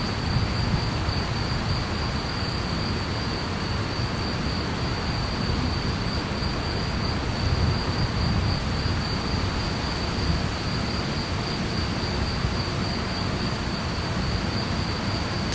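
A steady, high, continuous trill of crickets fills the background over a dense hiss of outdoor night noise, unbroken and constant.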